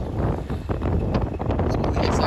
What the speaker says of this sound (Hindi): हवा जो है हवा चल रहा है